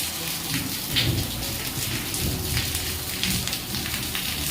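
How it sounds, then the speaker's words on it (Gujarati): A nighttime summer thunderstorm arrives with a dense, continuous hiss of rain on surfaces and deep rolls of thunder underneath, loud and close, with no voices. "વરસાદનું આગમન થઈ ગયું."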